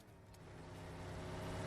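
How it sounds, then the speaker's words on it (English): Car engine in an open-world survival shooter game, a steady mid-pitched motor hum that grows gradually louder over a brief stretch, with no voices. "I loved how I went through him with the car"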